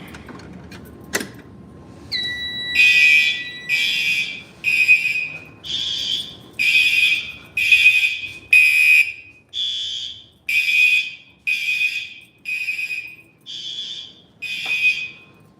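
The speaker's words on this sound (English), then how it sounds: "So this is a system sensor, a heat detector, right there." A System Sensor fire alarm sounds near and loud in a regular repeating pattern of about a dozen shrill electronic blasts with short gaps, preceded by a single sharp knock and a brief rising tone.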